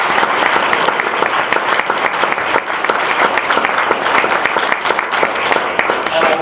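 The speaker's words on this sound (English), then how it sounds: "I think that deserves some applause" An audience at a donation ceremony for original Muppets figures gives loud, sustained applause, a dense wash of clapping that carries on unbroken throughout.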